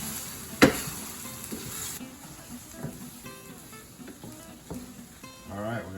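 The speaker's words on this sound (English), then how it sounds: "Turn it off and stir that in." Pasta being stirred into pesto in a pan with the heat switched off, giving soft scraping and light sizzling throughout, with a sharp clatter near the start and a few quiet sounds in the background.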